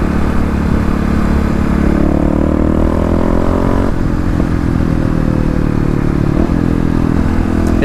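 Fuel-injected Kawasaki KLX351 dirt bike engine revving under throttle, a steady close buzzing drone with rising pitch sweeps and light mechanical clatter, with no talking.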